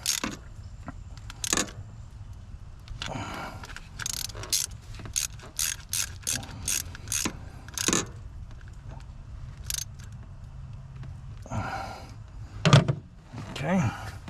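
Nuts on the battery cable terminals of a 7.3 Power Stroke truck are tightened with a ratchet, giving bursts of quick, sharp clicking pawl strokes up close, separated by pauses and metallic handling clinks.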